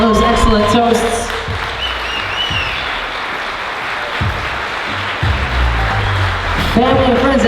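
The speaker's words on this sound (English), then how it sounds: "How about another round of applause for Rachel, Caitlin, and Tom on those excellent toasts." A round of applause from wedding guests after toasts, steady and filling the room, with a voice speaking over it at the start and end.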